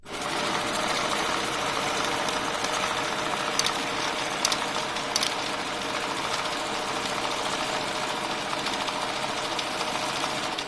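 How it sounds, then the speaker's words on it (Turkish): A refurbished Hunter Setech banknote counter runs with a loud, continuous mechanical whir, steady and close, with a few faint clicks as the notes pass through. "makineler şu parayı attığımız zaman tıkır tıkır sayar"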